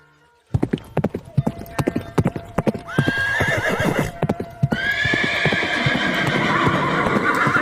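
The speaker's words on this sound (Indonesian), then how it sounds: "Prabu kembali ke istana menggunakan kuda kesayangannya" Horse hooves clip-clop steadily as a king rides his beloved horse back to the palace, loud and close, with whinnies and a neigh breaking in partway through over a continuous bright background.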